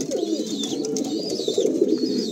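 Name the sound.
Andhra pigeons cooing in a loft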